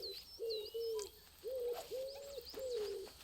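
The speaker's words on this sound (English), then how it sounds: "This island has a fuck ton of pigeons." Pigeons coo repeatedly on an island in Alba: A Wildlife Adventure, a series of low, hollow, evenly spaced calls close by, with faint higher chirps from other birds.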